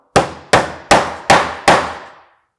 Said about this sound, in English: So let's finish it off and hammer in the last nail.